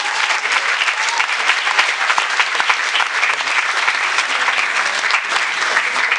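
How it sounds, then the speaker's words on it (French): A large audience at the closing and awards ceremony of a film festival claps steadily and evenly for several seconds, a thick, continuous wash of applause. "Zoé, Raphaël, Lilou, Marois, Emma et Lola, qu'on peut applaudir s'il vous plaît."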